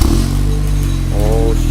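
A car engine starts up for the first time with a new exhaust, a loud, deep, rumbling burble that settles into a steady idle at close range.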